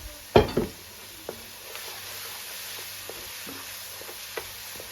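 Garlic hits hot oil already holding a star anise flower, an inch of cinnamon stick and a bay leaf, giving a brief loud burst, then a soft, low, steady sizzle with scattered small pops.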